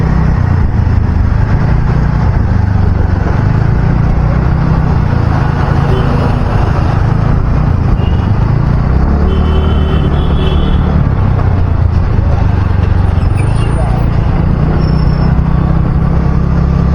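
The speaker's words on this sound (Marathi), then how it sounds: "फुल ट्रॅफिकच्या आतमध्ये." Heavy city road traffic in Ghansoli with cars and motorcycles, a loud constant engine rumble and roar, recorded up close on a GoPro with some voice beneath it.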